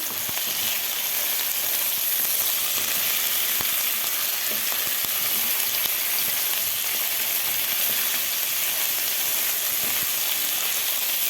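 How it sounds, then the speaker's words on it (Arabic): Cauliflower frying in a pan with shrimp gives a loud, continuous, dense sizzle and hiss that stays steady throughout, with faint stirring taps underneath and no voices. "وهنحط القرنبيط كله مع بعض كده، بنديله تلويحه كده حلوه مع بعضه اهو"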